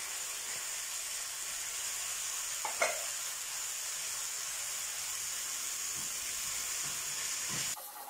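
Red pepper, paprika and black pepper sizzle steadily in a frying pan as they are stirred, giving a continuous close hiss with a few scraping strokes of the utensil partway through.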